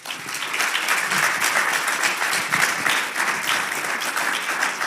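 An audience applauds a speaker at a French conference on generations at work, a steady, dense wash of clapping that fills the whole stretch at even loudness, with no voices standing out.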